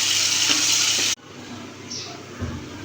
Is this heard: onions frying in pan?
yes